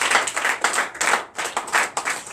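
A congregation at a Sunday worship service in Comè, Benin claps in quick rhythmic bursts, several clear waves of hand claps close and loud with no talking.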